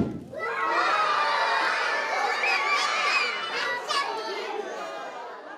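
A crowd of children at a community school children's festival cheers and shouts as a cardboard air cannon launches smoke rings. The excited, loud chorus swells quickly and holds for several seconds before easing slightly.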